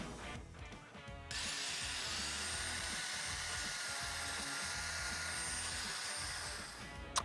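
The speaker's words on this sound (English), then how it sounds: "We were just taking off too much material with that big bad Makita." A big Makita power tool grinds material off metal, a loud, steady, close whirring buzz that kicks in after a brief quieter start and runs on without talk.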